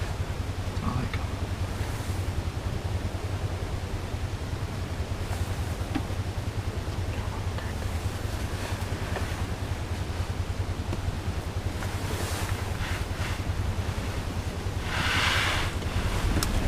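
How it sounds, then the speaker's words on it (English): Strong wind sweeps across a frozen lake during ice fishing, a constant loud roar with microphone buffeting and rising gusts near the end. "Pretty windy out there."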